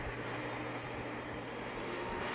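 Airplane engine hum from a pilot training video game as the aircraft begins to taxi, a steady low drone held at a fairly faint, even level with no talking.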